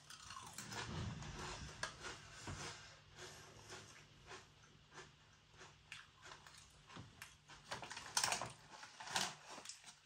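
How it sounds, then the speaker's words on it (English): Cheese and jalapeño crisps from Beavertown Open Up are eaten close to the mic, giving a run of crisp bites and crunchy chewing that grows louder and sharper toward the end, with no talking. "So let's eat a couple of these crisps then."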